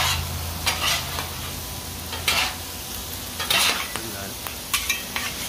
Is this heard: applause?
no